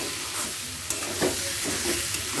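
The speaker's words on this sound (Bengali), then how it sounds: "এরপর সেদ্ধ করে নিয়ে ভেজে রাখা ডিমটা পেঁয়াজ আদা রসুনের সাথে ভালো করে কষিয়ে নেব।" Boiled and fried eggs sautéed with onion, ginger and garlic in a pan for egg curry, making a steady close sizzle broken by stirring scrapes and soft knocks, with no voices.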